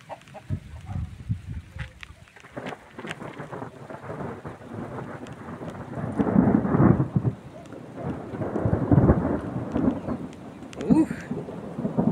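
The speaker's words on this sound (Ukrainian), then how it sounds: "Давай, дощ." A thunderstorm with heavy rain, rumbling thunder rolling in waves over a steady hiss of rainfall, with brief bursts of a person talking in the background.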